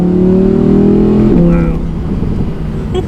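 2018 Audi R8 V10 RWS in manual sport mode revving hard with quick gear shifts, a loud close engine roar that climbs, drops sharply at a shift, then settles into a lower drone.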